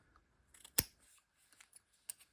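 Scissors cut through tough, stiff material with holes in it. One sharp, loud snip comes first, then a few quieter clicks and a second snip in a quiet room.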